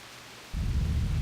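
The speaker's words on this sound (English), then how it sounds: "Then, one day, a terrible storm beset the village." Thunderstorm in the video game Grandia II: quiet hiss gives way to a sudden heavy, loud rumble of thunder over rain, rolling low and continuous with no voices.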